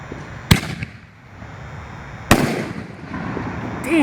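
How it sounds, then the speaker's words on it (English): Two Firearm peony canister firework shells burst sharply a couple of seconds apart, each a loud crack followed by a crackling, fading tail in open air. "Got the Firearm shell, the color peony."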